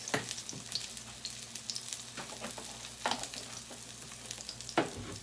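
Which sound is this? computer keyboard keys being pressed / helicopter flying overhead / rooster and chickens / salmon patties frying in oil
salmon patties frying in oil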